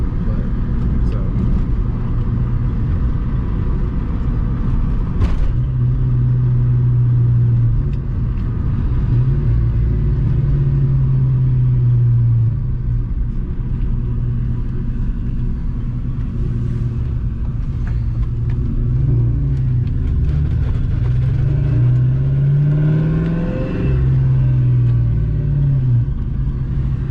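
A 1996 Ford Mustang GT, freshly given a motor swap, idles with a steady low rumble and a few rising revs, close by and continuous throughout.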